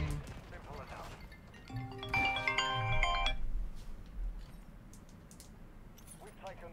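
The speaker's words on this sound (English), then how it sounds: "Unfortunate that I get a phone call as soon as this game starts." A phone ringtone for an incoming call chimes for about a second and a half in bright repeating tones over faint gameplay noise, with a voice talking before and after.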